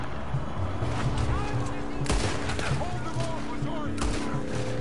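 Scattered gunshots in Red Dead Redemption II, moderately loud against a busy ambient game background, with a sharper crack or two standing out and no clear talk over them.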